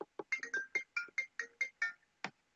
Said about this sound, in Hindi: मेरे एक सेकंड फोन आया रहा